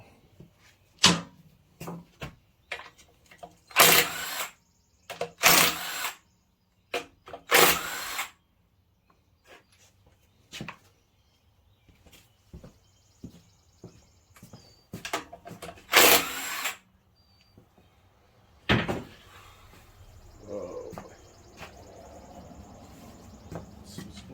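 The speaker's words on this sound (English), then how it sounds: "More bolts to take out." A power tool spins out bolts on a Kohler KT735 engine from a Cub Cadet mower, in several loud, short whirring bursts separated by quieter clinks and handling of metal parts.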